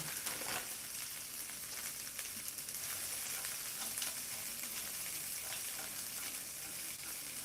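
Shrimp and frozen corn cook in a frying pan, giving a soft, steady sizzle with light scraping and clinks of stirring.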